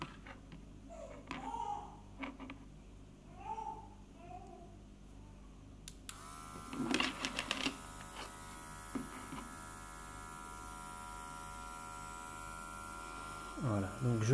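A small airbrush with a built-in compressor switches on partway through and keeps running as a steady close electric hum and buzz, with light handling clicks. A voice is heard briefly before it starts.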